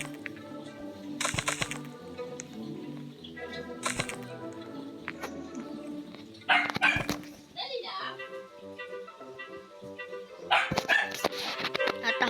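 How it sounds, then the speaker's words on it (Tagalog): A family dog barks and yips noisily, seemingly angry while looking for food, in loud bursts scattered across the clip over a busy background of game music and other sounds. "Natahol guys yung aso namin"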